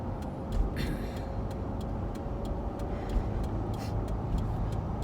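Steady road traffic with cars passing fast nearby, a continuous broadband rush of tyres and engines with a few brief louder swells, and no voices.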